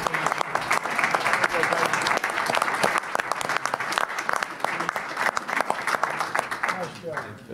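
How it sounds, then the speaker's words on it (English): Sustained audience applause fills a board of trustees quarterly meeting, dense steady clapping running the full length at moderate volume, with some voices talking underneath. "let's give him a round of applause for his service"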